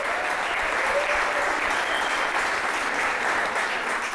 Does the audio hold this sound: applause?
yes